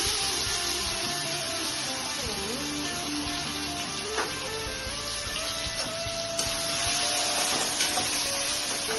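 Ginger-garlic paste frying in hot oil with cumin, cardamom and cinnamon: a loud, continuous close sizzle with bubbling crackle and a few faint stirring knocks, no voices.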